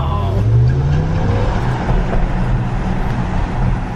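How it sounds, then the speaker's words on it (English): Cadillac accelerating hard from a standing launch at the New York International Auto Show test ride, with 500 Nm of torque; a loud, steady motor roar with a rising tone, heard from inside the car. "The launch, people do not realize how quick this stuff starts."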